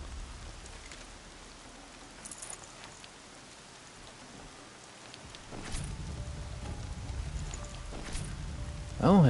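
Rain falls in the video game Horizon Zero Dawn, a continuous soft patter of drops on surfaces that grows heavier and louder partway through, with brief higher tones and a loud burst near the end.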